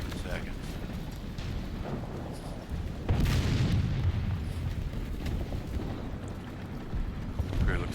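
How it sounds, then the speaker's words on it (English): Artillery strikes land in War Thunder tank battle gameplay with a Panzer IV C, a heavy rumbling boom that swells and lingers over a constant engine and battlefield din, with a player talking throughout. "That's my artillery doing its job."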